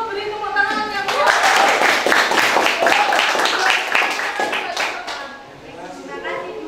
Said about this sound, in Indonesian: Kalau gitu beri tepuk tangan yang kuat.